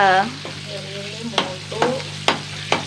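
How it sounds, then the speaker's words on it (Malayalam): Curry leaves fry in hot oil in a pan alongside gram, a low sizzle under a few sharp scraping stirs of a spoon against the pan, close and without talk. "കറിവേപ്പില ഒന്ന് മൂക്കട്ടെ"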